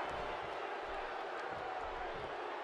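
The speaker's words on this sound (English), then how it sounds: "by the sound of this crowd, I think they're getting what they wanted" Wrestling arena crowd at a televised pay-per-view match, a dense, steady roar of cheering voices sustained loudly throughout with no clear breaks.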